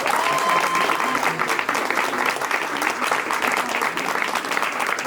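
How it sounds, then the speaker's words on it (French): An audience at a student talent contest claps loudly and steadily, a dense wash of applause sustained from start to finish. "On applaudit s'il vous plaît la cartonnerie."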